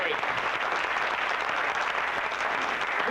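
Convention crowd claps for a magic show assistant, steady full applause throughout a short stretch with a voice faintly audible beneath it.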